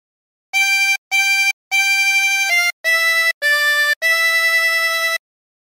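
A 16-hole tremolo harmonica plays a short phrase of Hark the Herald Angels Sing, seven clean sustained notes separated by brief gaps, loud and close with no voices.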